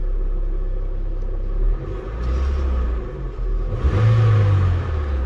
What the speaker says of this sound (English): I'm gonna give it some throttle, see what it does